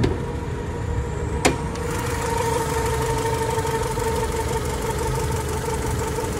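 A Honda Accord wagon engine idles with the hood open at night, a steady close hum with a faint whine above it. A single sharp click sounds near the start.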